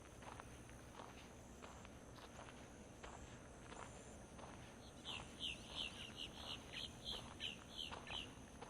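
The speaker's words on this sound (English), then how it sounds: "Boat-tailed grackles." Boat-tailed grackles at a Florida wetland, a series of sharp repeated whistled calls rising in the second half, fairly faint over footsteps and outdoor background noise.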